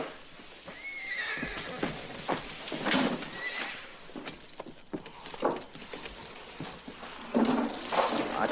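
A horse whinnies and snorts over hoof clip-clop and a busy western-film soundscape, with several neighs spread through the passage.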